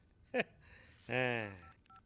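Telephone dialing in a Tamil film scene, with a brief tone burst followed by a short spoken voice, close and moderately loud, then a few faint beeps at the end.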